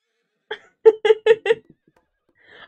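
A thoroughbred horse in a video game gives a short whinny made of several quick, rising bursts, loud and close, followed by a faint trailing sound.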